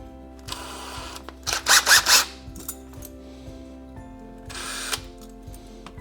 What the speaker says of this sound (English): Maybe a bigger drill bit.